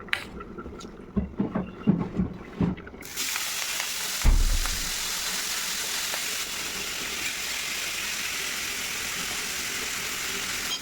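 Fish frying in hot oil in a home kitchen, with a few loud spits and crackles early on, then a steady, close, continuous sizzle with oil spattering.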